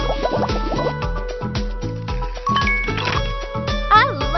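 Cartoonish liquid pouring and dripping sounds from an animal hair salon game for kids, a run of bubbly, tinkling splashes over light game music, with brief chimes near the end.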